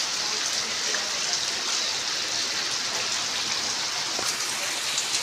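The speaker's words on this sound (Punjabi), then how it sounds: "ਛਿੱਟਾ ਹੀ ਛਿੱਟਾ ਹੋਇਆ ਪਿਆ ਕਿਤੇ ਵੀ ਦਿਖਾਈ ਨਹੀਂ ਦਿੰਦਾ ਇੰਨਾ ਜ਼ਿਆਦਾ ਮੀਂਹ" Steady, dense downpour of heavy rain hissing evenly throughout, with no pauses and no voices.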